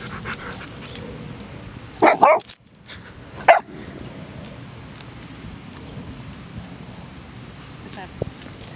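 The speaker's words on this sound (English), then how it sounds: "She's not afraid to bark." A dog barks playfully a few times in short bursts near the middle, close and fairly loud over a steady low background with speech-like murmur.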